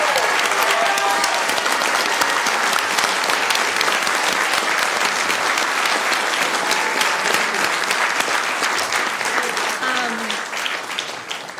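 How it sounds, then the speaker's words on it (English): Sustained applause fills a city council meeting chamber, a dense, steady clatter of many hands clapping that carries on for over ten seconds and thins slightly near the end. "One round of applause to each and every one of you."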